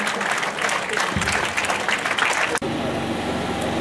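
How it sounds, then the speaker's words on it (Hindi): A school audience gives a full round of applause to welcome a district manager at a Seerat-un-Nabi program, dense clapping that cuts off abruptly near the end, leaving a low hum of the hall behind. "भरपूर तालियां में इस्तकबाल करें जनाब डिस्ट्रिक्ट मैनेजर असलम खान साहब।"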